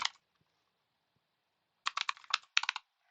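Brief bursts of close keyboard key presses as a password is entered into a login page, a single tap followed by silence, then two quick clusters of clicking.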